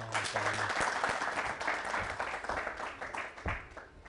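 An audience at a Pashto music gathering breaks into sustained applause, many hands clapping together in a dense, even roar from the room, fairly quiet and unbroken by speech.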